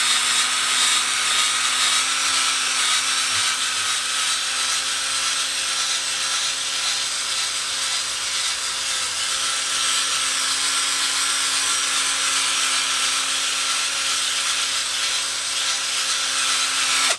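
A rotary power polisher buffs varnish on a guitar body with a steady, loud whirring hum and a constant friction hiss, running continuously without talking.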